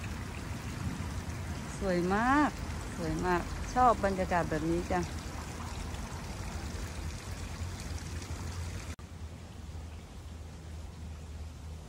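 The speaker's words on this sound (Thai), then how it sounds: "แม่น้ำใสมากเลยโอ้ยสุดยอด" A clear river flows with a steady, close watery rush in a Japanese historical forest park, running continuously as someone speaks over it for a few seconds.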